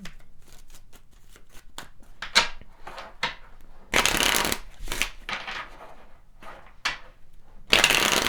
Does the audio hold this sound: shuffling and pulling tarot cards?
yes